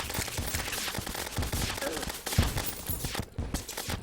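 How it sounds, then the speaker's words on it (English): Rapid weapon fire in the Terraria video game during a large corruption-world battle, a dense run of quick shots with homing summons, steady and close under a busy game soundscape. "this weapon seems to be doing reasonably well for the moment, just because it shoots so much"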